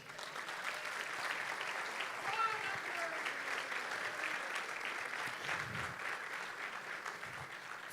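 A church congregation applauds during a Portuguese-language sermon, a steady, moderately distant wash of clapping that runs throughout, with a voice speaking faintly underneath.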